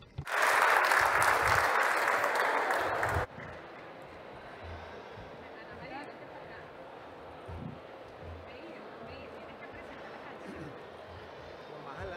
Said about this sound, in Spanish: un aplauso muy grande para nuestro coro